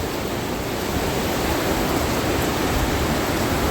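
Steady, loud rushing of flowing river water, a continuous broadband roar with no voices.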